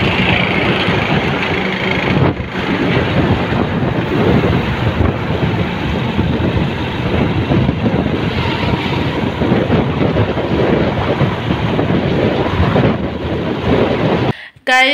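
Motorbike ride with heavy wind buffeting the microphone, a continuous loud roar of engine and rushing air throughout, cutting off abruptly at the very end.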